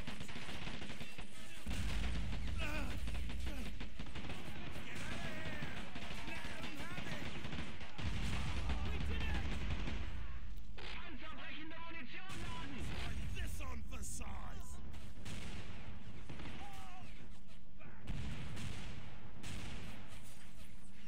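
Dense battle noise from the video game Men of War Assault Squad 2 on the Ramelle map, with repeated gunshots and heavy artillery booms over a constant roar, and voices talking throughout.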